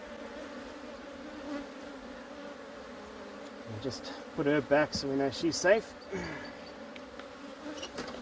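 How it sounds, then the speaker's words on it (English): Honey bees crowd a hive frame during an early inspection, giving a steady close buzzing drone throughout, with someone talking softly over it in the middle and brief handling sounds. "There's a lot of bees on the frame"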